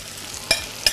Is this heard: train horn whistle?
no